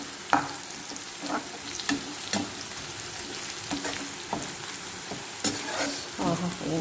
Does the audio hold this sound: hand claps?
no